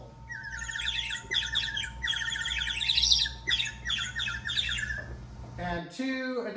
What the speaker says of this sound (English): And then the bird whistle.